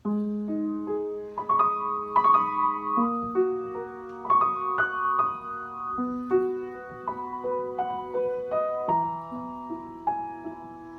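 Piano chords in a low register play a bouncy, rhythmic pattern, clear and close, with no talking.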